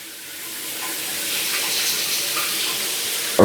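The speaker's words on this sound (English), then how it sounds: "So now I got a rain shower." Water sprays steadily from a 12-inch Razime high-pressure rain shower head, a hissing rush that swells over the first second and then holds even and close, with no talking.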